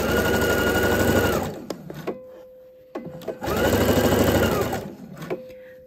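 A sewing machine runs in two fast, buzzing bursts while stitching a V-neck facing, each ending with a short whine and clicks of the mechanism, loud and close with no talk.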